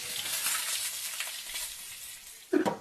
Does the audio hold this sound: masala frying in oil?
yes